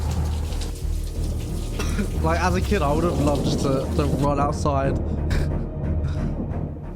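Steady rain from a thunderstorm pours throughout, with low rumbling thunder underneath, while someone talks over it close by.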